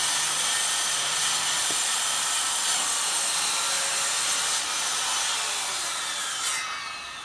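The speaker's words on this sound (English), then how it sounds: "you can just adjust that bottom plate on a circular saw just to cut a shallow cut" A circular saw with its base plate set shallow runs a steady, continuous cut through pallet wood, a close, loud whine and rasp holding for about seven seconds before easing off near the end.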